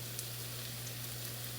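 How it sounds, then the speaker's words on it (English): Onions fry in butter in a pan, giving a soft, steady sizzle with a low constant hum underneath, close but faint. "on a separate pan, I'm frying onions in butter"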